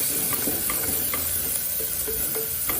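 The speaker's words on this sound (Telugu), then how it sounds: "ఇప్పుడు ఒక టేబుల్ స్పూన్ అంత అల్లం వెల్లుల్లి పేస్ట్ వేసి కలుపుకోవాలి." Ginger garlic paste stirred into cabbage with turmeric in a pan, giving a steady sizzle under light scraping strokes of a spoon, with a few soft clinks, near and continuous.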